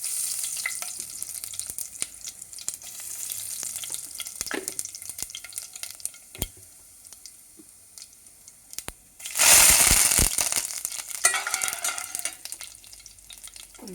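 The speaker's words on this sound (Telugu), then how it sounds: "ఇప్పుడు జీలకర్రతో పోపు పెడుతున్నానండి" Cumin seeds hit hot oil for tempering in a home kitchen, with soft sizzling and spoon scrapes, then a loud burst of frying around the middle that settles into a lighter crackle.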